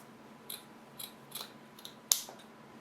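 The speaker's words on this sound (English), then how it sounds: "Why don't I just cut out a random piece of burlap?" Scissors snip through a piece of burlap in a quiet room, several short, crisp cuts spaced roughly half a second apart, the last one sharper and louder.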